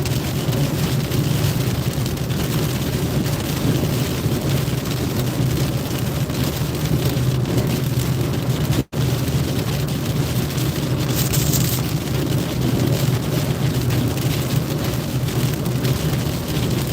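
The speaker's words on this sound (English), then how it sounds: "It is pissing down, you guys. It's raining so hard right now." Heavy rain pounds steadily on a car's skylight during a road trip between Raleigh and Charlotte, North Carolina, a dense, continuous close drumming with low rumbling underneath and a brief dropout midway.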